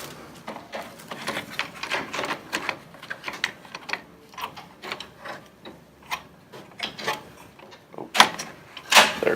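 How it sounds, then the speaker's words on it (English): Ribbon is loaded into a Brady BBP 30 series label printer, giving a run of close, sharp plastic clicks, snaps and rattling mechanical taps at irregular intervals that grow louder near the end. "So from here, you just place your ribbon in here."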